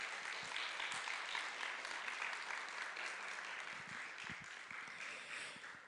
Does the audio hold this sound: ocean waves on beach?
no